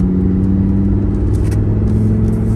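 A Lamborghini Huracan EVO Spyder taking a hairpin bend, with a loud, steady engine drone and deep rumble heard from close by, and a slight lift in pitch.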